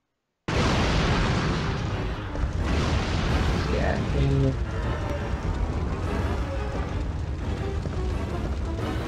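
A loud, sustained blast and rumble from a Resident Evil 3 Nemesis game scene, starting abruptly and holding a dense roar with crackling debris throughout, mixed with other game sounds.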